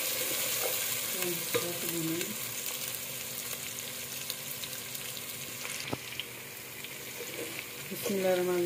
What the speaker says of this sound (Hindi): अब हम अदरक लहसुन का पेस्ट डालने लगे